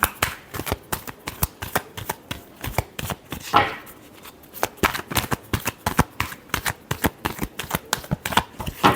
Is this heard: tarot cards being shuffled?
yes